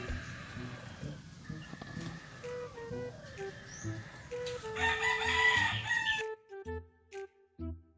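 A young gamecock stag crows and clucks close by, its drawn-out crow rising loud midway and then breaking off, with scattered clucks and faint background noise around it.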